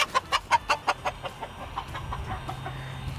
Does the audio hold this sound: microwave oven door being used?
no